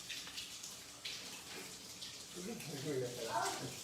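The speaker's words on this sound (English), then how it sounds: "I'm just gonna wash my hands." Tap water running and splashing in a sink during handwashing, a moderate continuous stream with a voice speaking over it.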